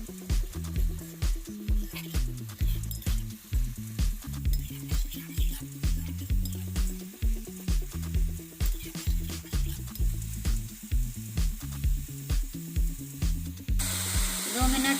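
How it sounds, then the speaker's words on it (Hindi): Tomatoes sizzling in a pan over medium heat for chhole, a steady frying hiss pulsing in regular waves, close and fairly loud with no talk. "दो मिनट तक मीडियम आंच में टमाटर को पका लेंगे"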